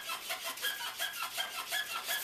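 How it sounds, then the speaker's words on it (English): Hand sanding of an airsoft R-hop patch with a small grip sanding tool, a quick back-and-forth rasping stroke repeated about a dozen times in steady rhythm, close and fairly quiet. "you can just grip the RHOP, go back and forth sanding it"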